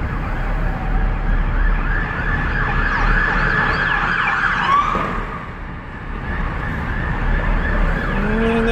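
Several police car sirens wail and yelp together on a road at the end of a car chase, loud and close, rising and falling over engine rumble as the vehicles arrive.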